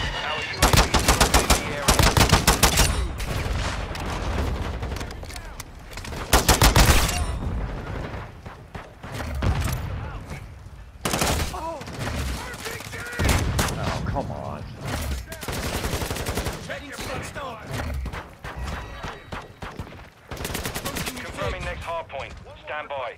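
Call of Duty Modern Warfare 2 multiplayer on the Shipment map, with dense bursts of automatic rifle fire and rapid repeated gunshots, loud and close, broken by brief gaps over twenty seconds.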